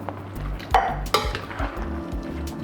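Metal utensils clink and scrape against a pan as a can of mild Rotel diced tomatoes and green chili goes in, with two sharp clanks in the middle and soft stirring noises around them, close by with no voices.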